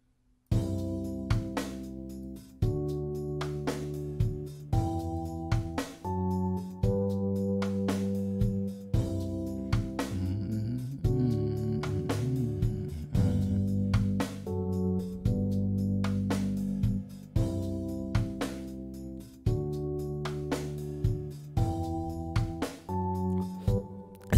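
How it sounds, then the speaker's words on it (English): Electric piano chords from a Kontakt 5 instrument play a steady Afro pop progression, sustained chords struck in a regular rhythm, close and full with no voices. "I went into Contact 5 and I got my electric piano."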